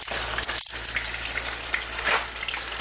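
Gafftop catfish fillets fry in a hot pan for a crispy crust, a steady bright sizzle with brief rustling bursts as the fish is handled, moderately close and without speech.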